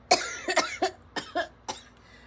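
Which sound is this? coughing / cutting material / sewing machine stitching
coughing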